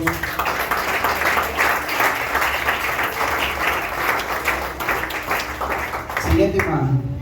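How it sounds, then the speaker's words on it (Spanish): A church congregation gives a sustained round of applause to God, a dense, fairly loud clapping that fills the room before fading out, with a voice speaking at the end. "¿Cuánto le damos un aplauso a Dios?"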